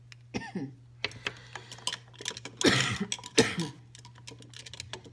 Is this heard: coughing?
yes